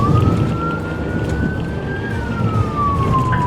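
Police car siren wailing loud and steady during a high-speed pursuit, one long rising then falling tone held throughout over dense road and engine rumble.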